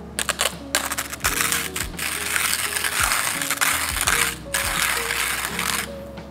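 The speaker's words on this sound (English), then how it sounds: "So I'm gonna try and grind some coffee beans." Kingrinder P2 hand grinder cranked through coffee beans, producing dense rattling, crunching and ratcheting clicks with sharp cracks of beans breaking, steady and close with brief pauses.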